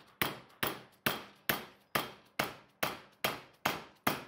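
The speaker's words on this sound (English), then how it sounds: "gently with a hammer." A hammer gently taps aluminum angle clamped in a vise, with about ten crisp, close metallic strikes falling in a steady, even rhythm, each ringing briefly before the next.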